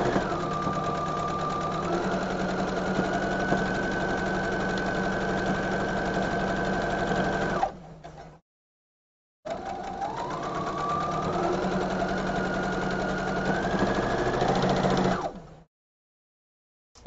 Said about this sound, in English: you just take this line and you put it right in the center of your sewing foot. And you just sew along that line.